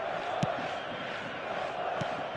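Steady roar of a stadium crowd in a football video game, a broad sustained murmur with a couple of brief louder swells.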